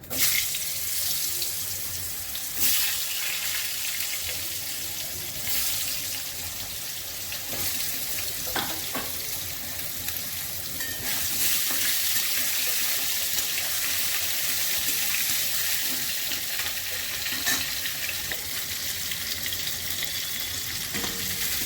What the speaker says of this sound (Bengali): আমি ঝিঙেগুলো একটু ভেজে নিচ্ছি